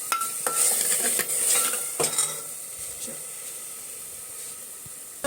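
Onions fry in a pan while a spoon stirs and scrapes against the metal, clinks and scrapes over a soft hiss, louder at first then settling into a quieter sizzle.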